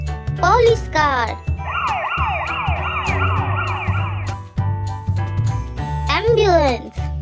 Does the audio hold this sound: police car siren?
yes